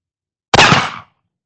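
A single close, loud shot from an 1873 Cattleman revolver fired at a target, a sharp crack with a brief tail, surrounded by silence.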